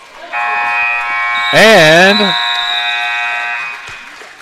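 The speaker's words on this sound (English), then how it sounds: "the buzzer sounds. That ends the first half." A loud, sustained electronic buzzer ends the first half of a 14U girls' basketball game, droning steadily for about three seconds in the gym while a voice briefly speaks over it.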